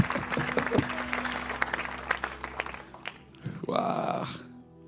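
Church congregation applauding during a worship service, a steady crowd clapping wash that carries through a low hum, then dips briefly before a louder swell with voices near the end.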